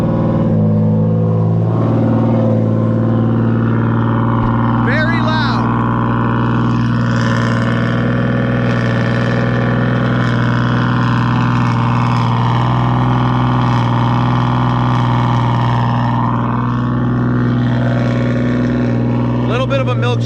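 A Nissan 350Z fitted with a rear-mount turbo system idles steadily and loudly after a cold start, a continuous low drone with slight variations and brief higher whistles, no voices over it.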